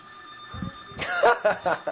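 A phone rings in a radio studio, several short clear chirping tones in quick succession following a faint steady tone and a brief thump.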